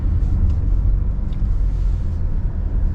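A car drives through Adelaide airport, giving a loud, steady low road rumble and engine drone from inside the cabin, with no talk.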